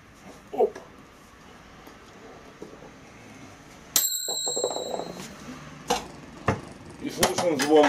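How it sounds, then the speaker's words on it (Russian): Metallic ringing and clinking attributed to coins, heard during the calibration of 10 mm GS35 rebar cut to 170 mm length: a sudden bright, bell-like ring midway, followed by scattered sharp clinks, over a low background hum. "Слышен звон монет."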